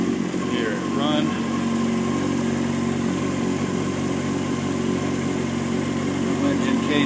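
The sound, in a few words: 2006 Honda CBR600F4i motorcycle engine idling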